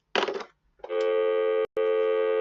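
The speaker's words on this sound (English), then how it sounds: "This is an old school phone, old digits, everything." An old-school telephone gives a short burst of mechanical ringing or rattling, then after a pause a loud, steady tone that is briefly cut off and then resumes, with no talking.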